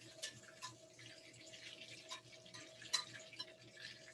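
Butter and sugar bubbling in a pan for toffee sauce: faint, soft popping and ticking bubbles at an irregular pace over a low steady hum, quiet and close with no talk.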